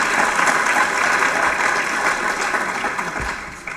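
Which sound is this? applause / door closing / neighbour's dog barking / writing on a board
applause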